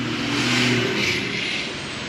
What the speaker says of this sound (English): Diesel truck.